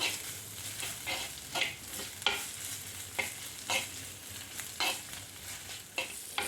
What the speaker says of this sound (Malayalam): ഇനി നന്നായിട്ടൊന്ന് വഴറ്റിയെടുക്കണം ഇഞ്ചിയുടെയൊക്കെ പച്ചമണം ഒന്ന് മാറി വരണം